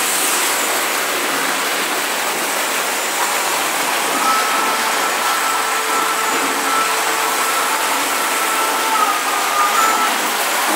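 A toy train runs across a room with its built-in sound effect switched on, a steady, fairly loud mechanical whir and rumble that carries on unbroken, with faint tonal beeps riding on top.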